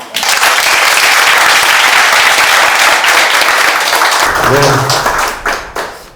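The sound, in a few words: applause from the audience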